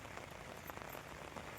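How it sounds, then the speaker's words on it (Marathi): Heavy rain pours steadily onto a surface, a dense continuous hiss of drops with no voices. "कारण पाऊस भरपूर माजदार आहे"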